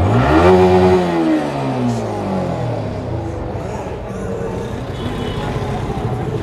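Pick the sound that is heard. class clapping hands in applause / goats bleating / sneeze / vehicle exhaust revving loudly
vehicle exhaust revving loudly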